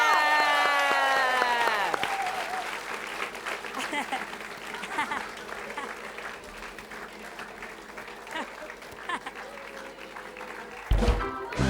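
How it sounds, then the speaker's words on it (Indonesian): A television studio audience at a Indonesian comedy game show applauds in a sustained wash of clapping, with a bright musical sting at the start, voices talking over it, and a louder burst near the end. "Kira-kira kita kasih tepuk tangan dulu dong."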